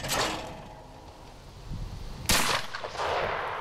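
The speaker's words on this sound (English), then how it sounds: "According to Marat, the secret is to shoot the clay right at the top of the arc." Shotgun fired at a clay target outdoors, with a sharp blast followed by a decaying echo, set against faint background noise.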